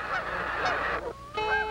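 Wild Canada geese honk loudly and close, a quick overlapping series of nasal calls with clear, harmonic-rich tones, ending in one sustained, brassier honk.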